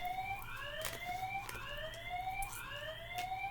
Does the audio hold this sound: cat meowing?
no